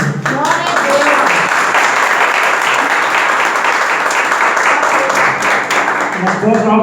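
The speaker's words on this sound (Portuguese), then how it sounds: "as palmas louvam o Senhor" A church congregation clapping in praise during a service, a dense, loud, steady round of applause lasting several seconds, with voices and speech audible underneath.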